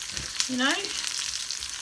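Onions sautéing in a pan give off a steady, dense sizzle and hiss, with a brief spoken phrase over the frying.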